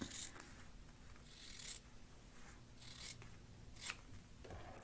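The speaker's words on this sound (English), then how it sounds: "And then I'm taking my trusty scissors." Scissors snip through fabric for a holiday table runner, with several crisp cuts spaced about a second apart, each followed by soft rustling and sliding of cloth, quiet and close.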